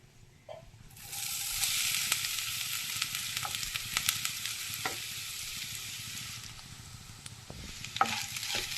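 Grated coconut roasting with urad dal in a pan over low flame for koottu curry, a steady dry sizzle with intermittent scraping stir strokes, close and continuous throughout with no talk.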